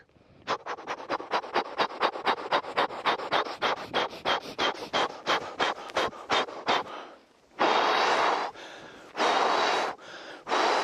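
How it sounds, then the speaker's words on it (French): A person demonstrates rapid breathing for managing stress, with a long run of quick, evenly spaced breaths close to the microphone, followed by three longer, forceful deep breaths. "inspirez rapidement, expirez rapidement"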